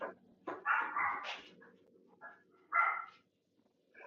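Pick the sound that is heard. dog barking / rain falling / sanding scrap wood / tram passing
dog barking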